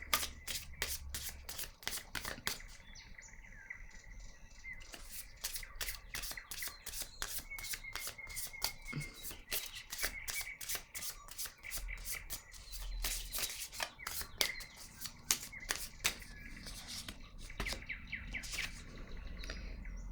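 Deck of oracle cards being shuffled and handled, a dense run of quick flicking and riffling snaps with soft rubbing between them, close and quiet, with faint bird chirps in the background and no speech.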